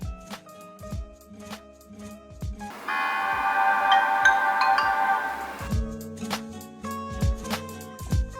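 A Sony Ericsson Vivaz U5i Symbian phone powers on and plays a bright, melodic startup tune with a shimmering sustained middle section. Short chiming notes come before and after it, and there is no talking.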